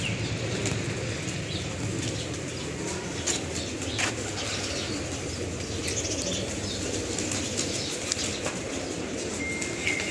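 Steady rustle of many pigeons flapping their wings nearby at a bird house in a cow shelter in Bhabhar, India, a continuous fluttering bed with occasional soft coos and chirps.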